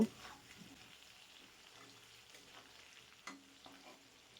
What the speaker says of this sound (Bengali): পেঁয়াজটাকেও আমি দু থেকে তিন মিনিট আলুর সাথে খুব ভালোভাবে ভেজে নেব